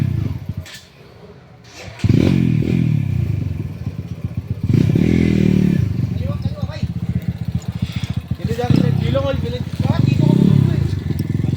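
An XR dirt motorcycle rumbles close by in bursts of revving, with clattering and thuds as it moves over rough ground, while people talk and call out over the engine.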